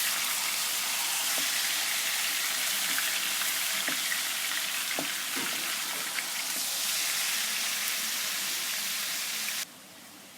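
Chicken for korma sizzling steadily in a hot pan as it is roasted with spices, a dense continuous hiss with occasional small pops, close and even throughout until it suddenly drops off at the end.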